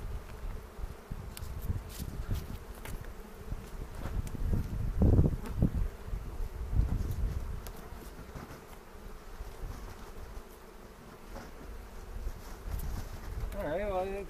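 Honeybees buzzing in a hive during a spring inspection, a steady low drone throughout with a few louder handling thumps midway and a voice talking quietly over it.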